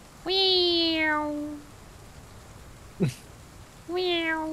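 Someone imitates a cat with two drawn-out, falling meows, loud and close, separated by a brief sharp vocal blip and a quiet gap.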